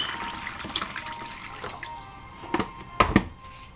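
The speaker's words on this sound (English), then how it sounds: "So just add regular water." Purified water pouring into a cooking pot, a steady trickle with a few louder splashes and clinks toward the end.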